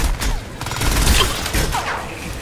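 Gunfire in Crysis 3, a dense close burst of repeated shots with rapid irregular cracks and booms running through the whole moment, loud and continuous.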